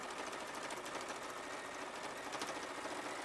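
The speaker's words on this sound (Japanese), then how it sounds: "ちょっとミシンしながらでごめんなさいね。" A sewing machine runs steadily and close by throughout, giving a continuous whirring drone with no talk over it.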